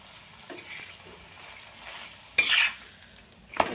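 An egg paratha fries in oil in a pan with a steady, soft sizzle, broken by a few brief louder scraping bursts as it is turned or stirred.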